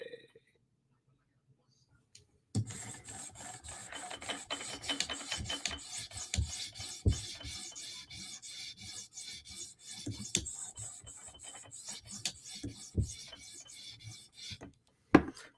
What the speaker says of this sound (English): Just doing a little sharpening.